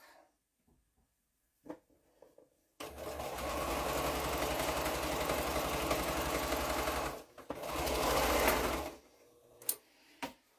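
A sewing machine stitches quilt block pieces together in one steady, loud run of motor whir lasting several seconds, followed by a short second burst and a few quiet clicks.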